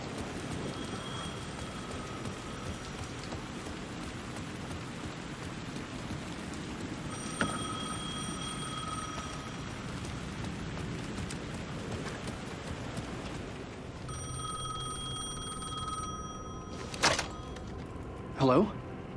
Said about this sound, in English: The phone was ringing again